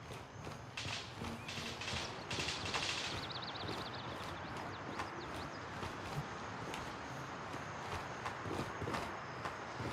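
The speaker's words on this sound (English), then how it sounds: "I just hear more fucking footsteps." Footsteps in the video game Gray Zone form a continuous dense patter of steps and thuds over busy background noise, with occasional higher clinks and a brief whirring tone near the start.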